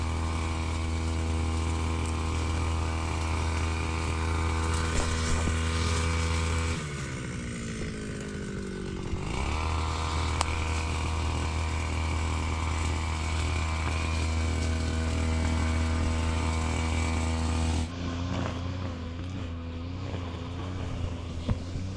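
A motorized grass cutter runs near a string bean and bitter gourd vegetable plot, its loud buzzing engine drone steady and close, briefly dipping in pitch and revving back up twice.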